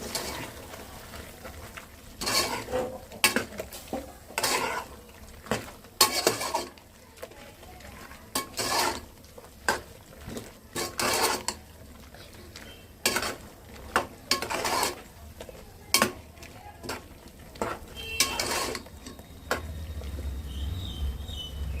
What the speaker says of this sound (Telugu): అలాగే ఉప్పు. కలుపుదాం ఒకసారి.